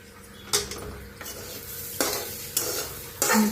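Spicy Maharashtrian pithla, a gram-flour dish, is stirred in a pan over low heat, with a spoon scraping and knocking the pan several times above a soft, steady sizzle.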